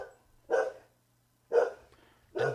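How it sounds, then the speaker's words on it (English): A dog barks three times in loud, separate bursts about a second apart, each a sharp single woof, with a faint low hum underneath and no talking. "The dog's going nuts."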